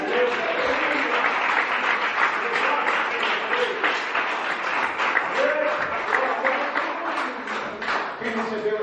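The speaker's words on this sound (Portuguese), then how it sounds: "Mais forte as palmas, mais forte." A church congregation claps hands together loudly and steadily, a dense rhythmic crowd clapping that runs throughout, with voices faintly mixed in beneath.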